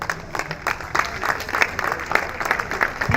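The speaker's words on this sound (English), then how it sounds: "Clap for our fellows." An audience at a memorial lecture claps for standing fellows, a sustained patter of many hands with scattered sharper claps, fairly close and steady throughout.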